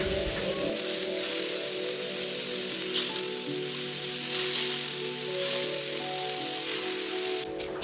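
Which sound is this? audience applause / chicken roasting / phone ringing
chicken roasting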